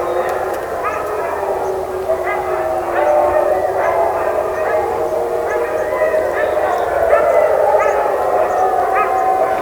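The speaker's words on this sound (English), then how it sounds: "it was just a kennel of dogs. Most looked to be huskies" A kennel of dogs, mostly huskies, heard in remote country along the Colorado Trail, barking and howling together in a continuous, wavering chorus that carries on steadily at moderate volume.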